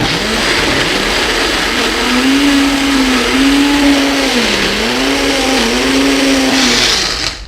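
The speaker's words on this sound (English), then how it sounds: "That's the great thing about this blender." A blender grinds pesto ingredients with a loud, close motor roar whose pitch wavers and dips as the load shifts, running continuously before stopping at the end.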